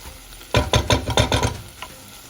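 Chopsuey noodles and vegetables stirred in a pan, a quick run of about half a dozen rhythmic scraping, sizzling strokes over roughly a second, then quiet with one faint tap.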